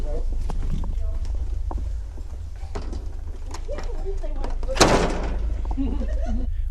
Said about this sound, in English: The loud knock we just heard was from Bill closing the door behind him as we walked outside for a break.